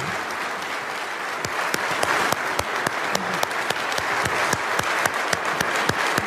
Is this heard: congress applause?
yes